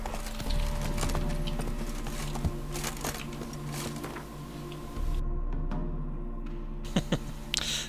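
Roach, a horse in a video game, gallops with steady rhythmic hoof clip-clops over a low droning background, with a few sharper thuds near the end.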